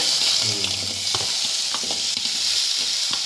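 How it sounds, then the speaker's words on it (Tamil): Pineapple dry-roasting in a pan for kesari gives a steady close sizzle with scattered stirring scrapes and clinks throughout, no talking. "இதுலேயே அன்னாசி பழமும் போட்டு ட்ரை ரோஸ்ட் பண்ணிக்கலாம்"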